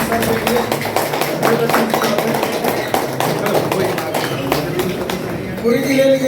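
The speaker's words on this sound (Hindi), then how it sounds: "आइए, मुरारी सर की तरफ से ताली मारिए" A crowd at a programme honouring a guest claps steadily, dense sharp hand claps continuing throughout while someone speaks over them.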